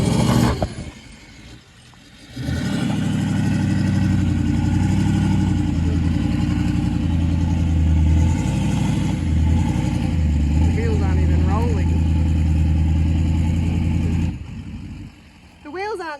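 A vehicle's wheels spin in sand on an outback Australian track as the engine roars loudly and steadily for over ten seconds, then drops away, with people talking over it.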